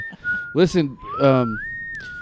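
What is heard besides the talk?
person whistling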